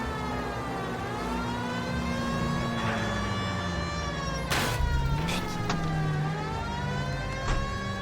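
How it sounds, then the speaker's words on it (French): A police car siren in the L.A. Noire video game wails continuously at a rising and falling pitch, loud and close. Sharp bangs and a brief spoken exclamation cut in over it. "je suis la police, t'entends la sirène, tu dégages"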